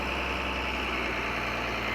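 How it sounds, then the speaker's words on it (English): Steady, loud idling rumble of a farm tractor engine, with broadband noise that holds unchanged throughout and no talking. "that other tractor that you'll see in just a second"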